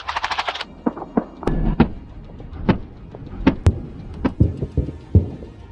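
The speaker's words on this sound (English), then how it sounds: "Look how good the Bushmaster cannon is." Bushmaster autocannon fire in spaced single shots, loud booms with echoing tails, one burst of rapid shots at the start.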